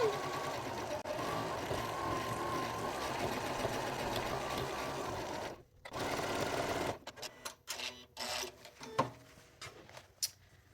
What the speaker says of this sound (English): I'm just going to hang on to it here as we are going to be stitching this down